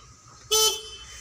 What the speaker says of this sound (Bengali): হর্নটা এখানে স্টিয়ারিং হুইলে দেওয়া আছে